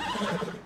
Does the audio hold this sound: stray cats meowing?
no